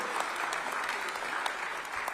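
Sustained applause from an audience welcoming a famous Bollywood singer as chief guest at the launch of a Rajasthan OTT platform, steady and dense throughout with no speech.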